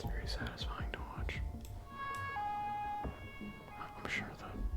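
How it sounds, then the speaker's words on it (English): An ambulance siren in the video game Plague Inc. wails in a steady, wavering tone under quiet whispered talk, with clicks and small sounds around it. "the ambulance is not very relaxing"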